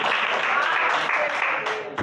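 Congregation in a Deus é Amor church clapping to glorify God, a dense steady wash of applause filling the whole moment with faint voices mixed in.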